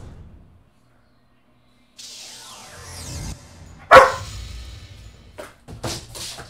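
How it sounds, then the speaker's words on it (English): A dog barks in the fighting game Tekken 7: one sharp, loud bark stands out amid whooshing game effects and a few short following sounds, with no voices. "Are you teasing that dog again?"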